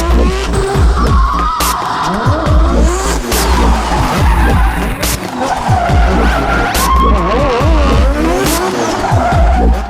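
Drift cars on practice runs at the Red Bull Drift Shifters event, with tires squealing and skidding continuously and loudly over roaring, revving engines. Several overlapping wavering squeals sweep up and down throughout.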